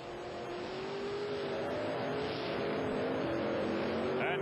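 A monster truck engine roars steadily at a 1990 TNT show in Myrtle Beach, South Carolina, likely King Kong, a Ford body with Chevrolet power, pulling hard against Carolina Crusher; continuous loud racing drone that rises slightly near the end.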